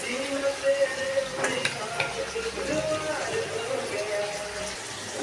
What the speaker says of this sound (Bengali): পুঁই শাকের আলু কুমড়োটা ভেজে নিই